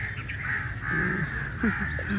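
A crow caws a few times outdoors during a morning walk, harsh calls at moderate distance with other faint bird chirps and light ambient noise around them.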